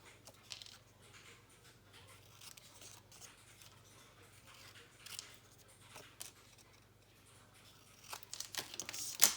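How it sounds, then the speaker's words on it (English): Scissors snip the corners of paper for a Christmas junk journal, faint close cuts with light crinkling and rustling, growing busier toward the end. "I'm just going to cut these corners."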